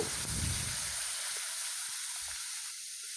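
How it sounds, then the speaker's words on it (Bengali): Water is poured into a hot pan for Bengali bori, potato and tangra fish curry, setting off a loud hissing burst of steam that quickly settles into a fainter, steady sizzle. "পরিমাণ মতো জল দিয়ে দেব"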